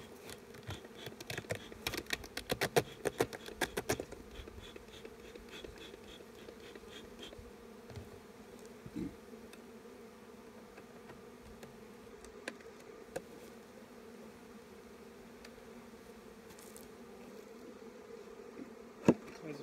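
Honey bees buzz around an open hive during spring inspection, a soft steady hum close by with occasional sharper clicks and knocks from handling the frames.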